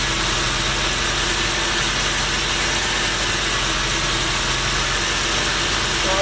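Truck V6 engine swapped into a MerCruiser ski boat idling: a steady, loud rumbling drone with even vibration, unbroken and without talk.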